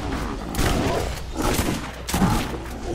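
Bursts of gunfire in the video game Borderlands, loud dense rattling volleys in quick succession with heavy thumps, continuing without a break through the moment.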